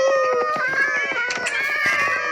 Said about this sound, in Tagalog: Bakit to yung mga pusa ko nagsisilabasan dyan?